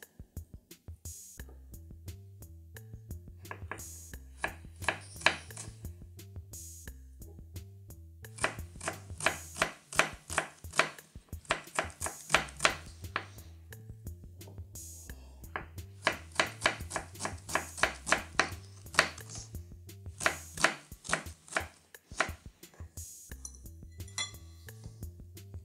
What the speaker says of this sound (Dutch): We snijden de salotten in zo dun mogelijk stripje.